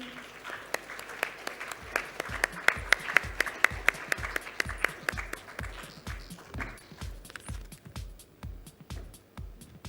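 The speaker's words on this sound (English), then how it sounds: "Let's welcome them all with a huge round of applause," An audience at a technology conference in Visakhapatnam welcomes guests with quiet, sparse applause, the separate sharp claps landing in a loose, fairly regular rhythm and thinning out toward the end.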